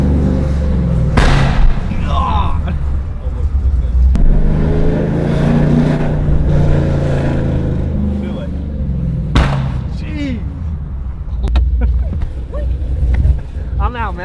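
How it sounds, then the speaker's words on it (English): A loud Chevrolet Camaro with an aggressive exhaust driving by downtown, its engine rumble rising and falling with revving bursts close to the listener, while a person talks over it. "Driving by on one of these clips just so you guys can know just how loud this is."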